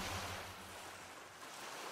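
Soft, steady wash of sea waves on a turquoise sea, heard from a sailing boat, with a low rumble and faint wind, quiet and continuous with no voices.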